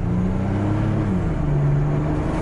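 A small 2001 Chevy S-10 pickup engine revs up with rising tones, dropping briefly as a gear changes and then climbing again, heard from inside the cab, loud and steady.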